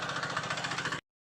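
A farm tractor's diesel engine running in a village, a steady close chugging drone with rapid rhythmic pulses that cuts off abruptly.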